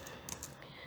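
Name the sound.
typing a search query on a computer keyboard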